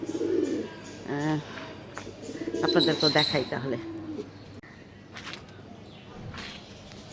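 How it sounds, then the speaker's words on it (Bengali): Soft, low cooing from a dove repeats a few times close by, with a person speaking briefly in between. "ঘুঘুর আওয়াজ রাত্রেবেলা শুনি সকালবেলা ঘুম ভাঙে ঘুঘুর আওয়াজে"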